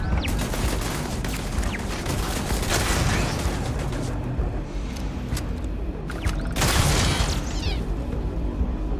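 Beowulf sniper rifle gunfire in the Starfield video game roars out as a continuous barrage of loud, dense shots and booming impacts, with sharper cracks standing out near the middle and toward the end.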